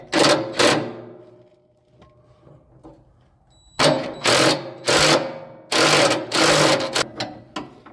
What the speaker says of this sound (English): I gotta jack this up, so take the weight off